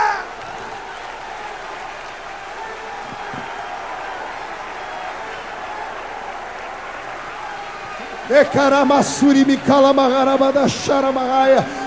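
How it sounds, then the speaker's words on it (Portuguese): A church congregation claps in worship, a low, diffuse rustle of hands for most of the stretch before loud singing or amplified voice with music bursts in near the end. "Quem pode adorar a Deus com palmas, faça!"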